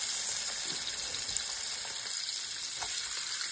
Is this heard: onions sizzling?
yes